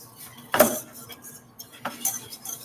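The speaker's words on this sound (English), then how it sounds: "butter's all melted. We're gonna put in our flour. Just stir that around" Flour being stirred into melted butter in a pan for cheesy scalloped potatoes, with a sharp utensil scrape against the pan, then quieter scraping and clinks spread across a few seconds.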